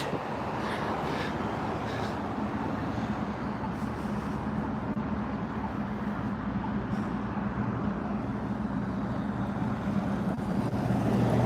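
Outdoors in Yakima, breezy wind roars steadily across the microphone as a loud, constant rush that never lets up, with no voices.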